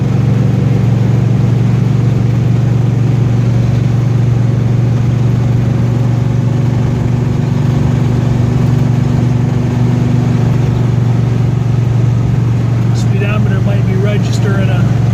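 A 1968 Buick GS 400 engine accelerating through gear shifts from first to second and second to third, a loud continuous droning rumble heard from inside the car, with faint rattles near the end.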